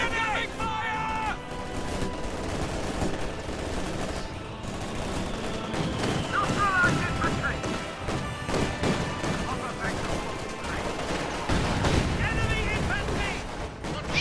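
Battle in a WWII strategy video game: dense bursts of rifle and machine-gun fire with heavy artillery booms and crashes, continuous and fairly loud, with in-game voices and commentary talking over the combat.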